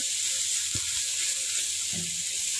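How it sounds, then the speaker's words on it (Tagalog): Potato sautéing in a pan for stir-fried rice noodles gives a constant close sizzle, with a couple of soft knocks from stirring. "Ginigisa ko lang yung potato."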